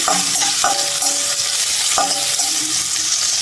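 Onions frying in oil in a pan for Filipino fish paksiw, a steady loud sizzle with a few sharp utensil clinks and stirring scrapes at intervals, no voices.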